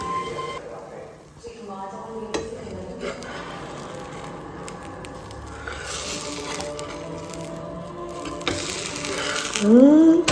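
Batter spread on a generously oil-brushed tawa griddle gives a continuous soft sizzle with scattered crackles and scraping, while a person talks over it throughout.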